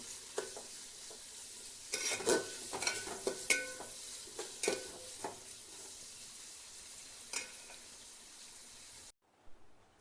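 Cashews and raisins fry in a pan with a soft sizzle under frequent clattering stirs and scrapes of a spoon, then the sound cuts out near the end.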